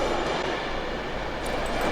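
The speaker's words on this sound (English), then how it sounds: "A London train is due imminently" A London-bound train arriving at a station rumbles on steadily with a broad, loud roar, nearby and continuous, and a faint high squeal near the end.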